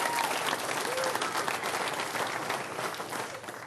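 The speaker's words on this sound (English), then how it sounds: "Round of applause." A live studio audience on a motorsport TV show breaks into a steady, dense round of applause that carries on evenly throughout, with a faint voice briefly audible beneath the clapping.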